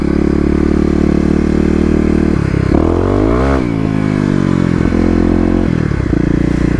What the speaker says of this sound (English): one more backing it in, and one more wheel spin